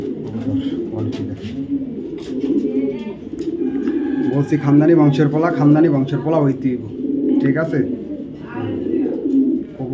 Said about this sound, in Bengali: 2024-এর কবুতর, একদম ইয়ং বার্ড